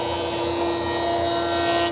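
Jointer planing the edge of a wood board for an inset cabinet door, a steady loud machine roar with a constant whine and cutting rasp sustained throughout, heard alone.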